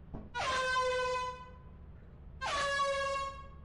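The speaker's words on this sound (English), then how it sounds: "I'm giving CPR with this air horn." Two loud blasts from an air horn in the video game Lethal Company, a long honk followed by a pause and a second one, each a sustained bright blare over low background noise.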